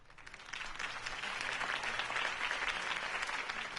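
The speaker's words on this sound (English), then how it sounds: "If only Mr. Wayne, my campaign's largest backer, could have heard that applause" A crowd bursts into dense, sustained applause following Harvey Dent's campaign speech, a steady wash of many hands clapping at full strength with no voices rising above it.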